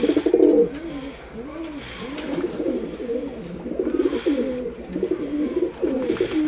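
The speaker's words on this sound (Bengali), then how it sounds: "এক পেয়ার সালেটি কবুতর" Pigeons coo close by in repeated rolling, throaty phrases, one after another at a steady rhythm, loud and clear over a low background hum.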